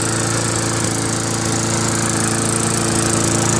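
Loncin clone engine on a Toro SR4 Craftsman lawnmower, running after a carburetor screw adjustment: a loud, steady, close drone with an even hum and no surging or rattle.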